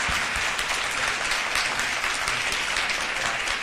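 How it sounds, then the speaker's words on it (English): Steady, dense applause from an audience greeting a guest speaker at a university talk, continuous and fairly loud throughout with no pauses. "So please give a round of applause for Dr."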